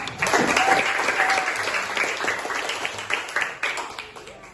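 A fourth-grade primary school class claps together in a classroom, a short burst of many small hands that starts strong and then tapers off.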